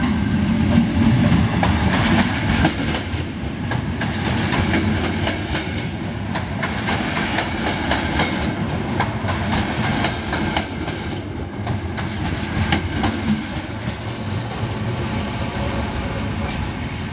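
A ČD 451 electric passenger unit moves through Praha Masarykovo station with a steady rumble and rolling rail noise, loud and close throughout, with faint clicks over the tracks.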